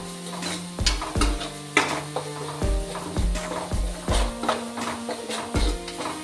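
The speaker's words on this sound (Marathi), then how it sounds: "मिरची लसूण वगैरे तेलामध्ये फ्राय होऊ द्यायचा" Green chillies and garlic frying in oil for a pigeon-pea amti, with repeated scraping stirs against the pan over a steady sizzle, close and fairly loud, and a faint ringing tone between strokes.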